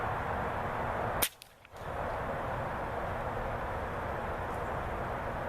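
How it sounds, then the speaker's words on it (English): A single sharp shot from an FX Wildcat air rifle fired at a target, short and close, followed by a brief dip in the steady background hiss. "so I'm going to shoot the bottom center target"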